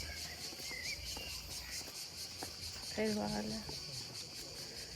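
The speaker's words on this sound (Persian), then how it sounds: "این صدا رو بشنوید، این فکر کنم صدای جیرجیرک کل جزیره این صدا داره میاد" Crickets chirp in a dense, continuous trill outdoors on an island in Venice, filling the background throughout. A person speaks briefly over the insect chorus.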